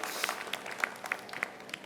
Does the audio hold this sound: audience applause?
yes